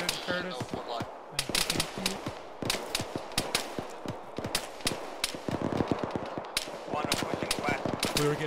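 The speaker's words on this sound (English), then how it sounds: "Shooting at us here." Rapid bursts of gunfire in an Arma ShackTac tactical shooter game, dense automatic and single shots cracking close and loud in quick succession, with a voice talking briefly between volleys.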